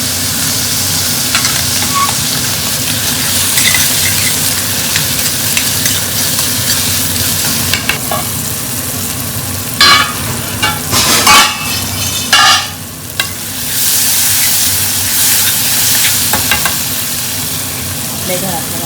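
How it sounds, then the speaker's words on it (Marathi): Onion, tomato and garlic frying together in a pan at home, a loud continuous sizzle with bursts of spatula stirring and scraping scattered through the middle. "त्याच्यात आपण टोमॅटो आणि लसूण पण मस्त शिजवून घ्यायचं आहे आपल्याला."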